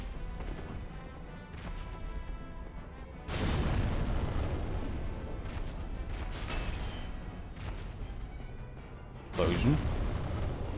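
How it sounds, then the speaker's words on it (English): Explosions in the Dark Souls video game during a boss fight: two deep booming blasts about six seconds apart rise over a continuous rumbling game soundtrack, with someone speaking over it. "Explosion."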